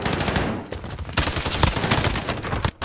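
Rapid automatic gunfire rattles in Call of Duty Warzone, with dense bursts of sharp shots, brief pauses and renewed volleys, loud and close, with no talk over it.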